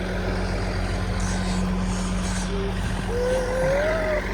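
A tractor engine runs at a steady idle, giving a continuous low droning hum with faint mechanical whine, moderately close and alone, with no talking.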